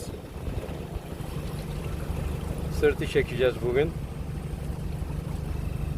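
A fishing boat's engine hums low and steady as it motors out on the sea off Antalya for an evening trip, with a short burst of talk near the middle riding over the drone.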